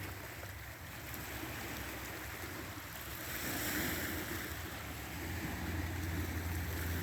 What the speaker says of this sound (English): There's the ocean right there. The water's right there.